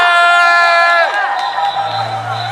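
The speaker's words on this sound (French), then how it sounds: "Applaudissez-moi les gars." A crowd at a protest rally in Toulouse shouts and cheers, starting with a loud sustained chorus of voices that breaks off after a second into scattered yells and babble over a low hum.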